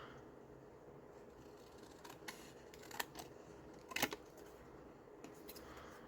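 Scissors cut paper for a book page double pocket, giving a few crisp snips clustered in the middle of a quiet stretch, close by and fairly soft.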